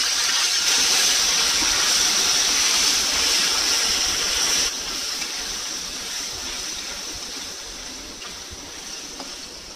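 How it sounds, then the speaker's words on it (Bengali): Paneer frying in white oil with a little salt, a loud continuous hiss of sizzling oil close by that drops slightly in level partway through and then holds steady. "রান্নাটা করব সাদা তেলে। তেলটার মধ্যে দিয়ে দেব অল্প একটু সল্ট, দিয়ে পনিরগুলোকে আগে একটুখানি ভাজা করে নেব।"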